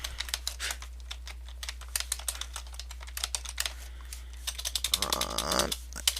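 Fingers tap quickly and unevenly on a computer keyboard, with close, crisp clicks in irregular bursts that speed up into a denser clatter near the end. No one speaks.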